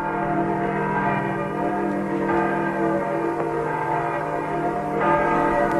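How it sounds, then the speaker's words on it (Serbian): Church bells ringing out in the evening, a steady, sustained resonant tolling that carries throughout with no voices present. "Čim se večernjom zvonjavom javio Miško zvonar, iz susjedstva su počeli pristi"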